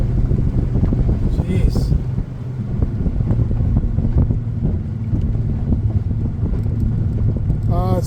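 A fishing boat races past on plane very close by on a foggy walleye lake, its engine a loud, steady roar mixed with wind buffeting the microphone, while a man briefly exclaims.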